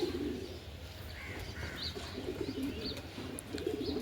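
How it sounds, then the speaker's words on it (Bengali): A flock of pigeons coos in repeated soft rolling bursts, moderately near, with a few brighter chirps and light background noise; no talking. "এই আমাদের পায়রা আসছে"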